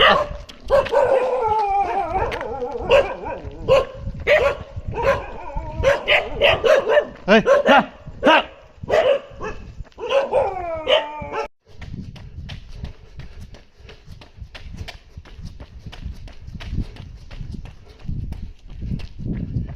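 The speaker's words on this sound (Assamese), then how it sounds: "ৰাস্তাত কুকুৰ বহুত আছে অ'।" Several dogs barking and yelping loudly on a road in Diphu, Karbi Anglong, a dense overlapping burst of barks that stops abruptly, leaving quieter background noise with faint voices.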